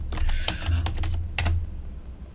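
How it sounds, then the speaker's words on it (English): Computer keyboard typing in short bursts of close, crisp key clicks over a low background hum, then trailing off, with no talk. "I was typing to somebody"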